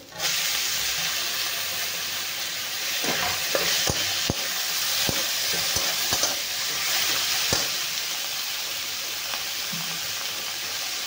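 Onion and eggplant fry in a pan with a constant bright sizzle while tomatoes are tipped in, and scattered spoon clicks and clatters rise over the hiss.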